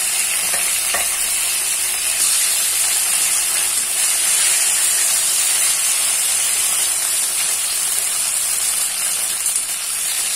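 Steady, loud sizzling of mixed vegetables frying in a hot pan, a continuous hiss with faint stirring and no talking.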